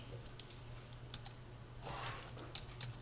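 Calculator keys being pressed to enter a list of sixteen numbers in a classroom, heard as soft, quick, irregular clicks over steady background hum, with a slightly denser burst of tapping partway through.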